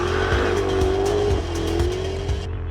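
A Jaguar corners fast on a race track, its engine holding a loud, steady drone as the tyres squeal through the bend, the pitch wavering slightly before the sound cuts off abruptly.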